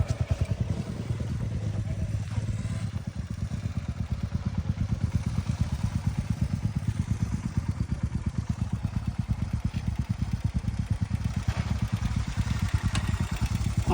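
A motorcycle engine idles steadily and close by before an off-road ride in the sandy Puga Valley, Ladakh, its even low throb running continuously with a faint voice now and then.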